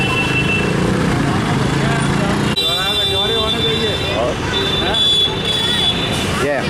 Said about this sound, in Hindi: जिधर देखो उधर ही ट्रैफिक ही ट्रैफिक।